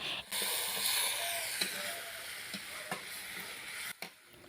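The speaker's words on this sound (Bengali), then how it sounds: "এখন হালকা নাড়াচাড়া করে নিব" Meat seasoned with garam masala stirred in a frying pan, a steady close sizzle with a few soft scrapes of the spoon, heard alone without talk.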